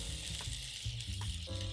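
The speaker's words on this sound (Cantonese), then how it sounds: "呢個期間我哋可以將啲意大利瓜卷擺埋落去煎" Zucchini rolls sizzle in a hot pan, a steady soft hiss of frying with faint low crackles underneath, quiet and continuous.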